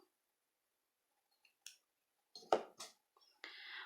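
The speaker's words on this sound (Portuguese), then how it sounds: "Então, agora eu vou cortar aqui o fio." Scissors snip crochet yarn for an amigurumi doll in a quiet room, a few sharp close cuts and clicks with small handling rustles between them.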